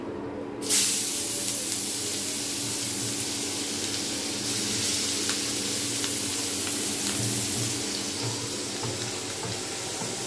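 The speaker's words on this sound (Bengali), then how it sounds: "এখন এখানে আমি এই ভাজা মাছের তেলে দিয়ে আমি এখন দিয়ে দিব পেঁয়াজ কুচি" Chopped onion drops into hot oil left from frying koi fish, setting off a sudden loud burst of hissing that settles into a strong, steady sizzle lasting to the end.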